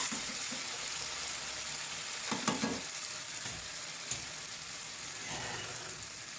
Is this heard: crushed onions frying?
yes